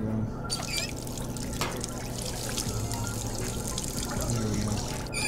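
Water pours steadily from a kettle in a VR cooking game, a soft continuous trickle over a low background hum with a few faint clicks.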